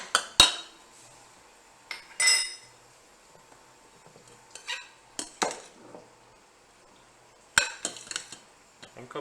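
A pot of quinoa lifted out of a pressure cooker and taken off the heat, heard as scattered metallic clanks and clinks of cookware in a quiet kitchen.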